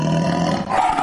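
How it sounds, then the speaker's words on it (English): A tiger roars once, a loud, close, throaty sustained roar that dips and rises again near the end, heard alone. "Tiger."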